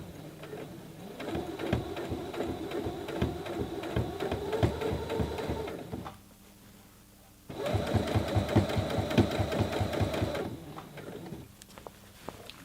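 A Brother CE1100PRW sewing machine stitches a jeans hem in two long runs of rapid, rhythmic needle thumps, close and loud, separated by a short quiet pause.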